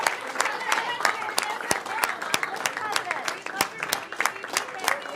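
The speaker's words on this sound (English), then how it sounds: "so nice big round of applause there for Trump still going" Applause for Donald Trump at a political event with a senator present, heard as sparse, sharp claps scattered through crowd murmur and a voice talking over it, steady and moderately distant.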